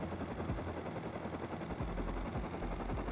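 Helicopter rotor chop in a Rust-style survival shooter, a loud continuous thudding drone with rhythmic low beats, overlaid by bursts of gunfire throughout.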